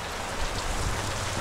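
Heavy rain pours down steadily on a mountain road between Kabayan, Benguet and Tinoc, Ifugao, a dense continuous hiss with low rumbling underneath, loud and close with no talk.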